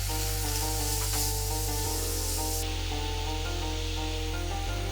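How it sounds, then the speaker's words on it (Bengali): Chili powder and spices sizzle and fry in a pan for Bengali mustard hilsa, a steady close hiss running unbroken through the whole stretch with no voices. "1 টেবিল চামচ মরিচের গুঁড়া দিয়ে দিচ্ছি। দিয়ে আমি কিছুক্ষণ কষিয়ে নিব।"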